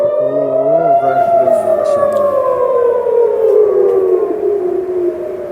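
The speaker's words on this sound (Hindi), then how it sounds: "लगातार इस तरह के सायरन सुनाई दे रहे हैं।" Air raid sirens wailing across Israel during a night missile attack from Yemen, a loud sustained rising-and-falling tone with layered sirens, the pitch slowly sliding down as it carries on without pause.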